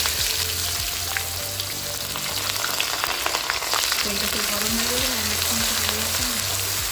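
Chopped onion frying with black cardamom in a pan, a steady close sizzle running throughout with a tonal hum and faint background voices underneath.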